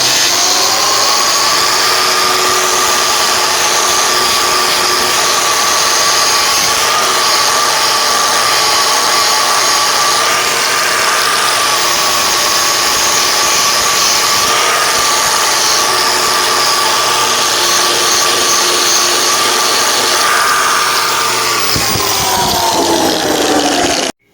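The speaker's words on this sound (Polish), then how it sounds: "przykręcimy go sobie, tą drugą stronę i będziemy polerować drugą" A power polisher runs steadily and loudly on the second side of a bolted-down part, a continuous whirring drone with a shifting tonal whine that holds for the whole stretch and cuts off abruptly at the end.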